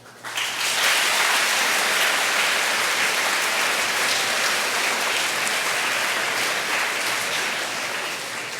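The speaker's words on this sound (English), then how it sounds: "Once again, give you guys a round of applause." A school assembly audience breaks into sustained applause, a dense wash of clapping that swells within the first second and holds steady and loud to the end, with no voices over it.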